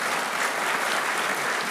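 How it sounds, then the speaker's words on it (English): A book festival audience applauds, a dense, even wash of clapping that holds steady and loud throughout. "Give them a round of applause."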